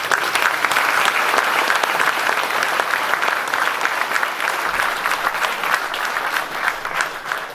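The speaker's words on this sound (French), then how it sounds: "Merci à eux aussi, j'aimerais qu'on les applaudisse." An audience at a mayor's New Year address applauds loudly and steadily, a thick wall of clapping from a large crowd that carries on without a break and eases slightly toward the end.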